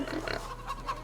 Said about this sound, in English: Pigs are the last thing I gotta feed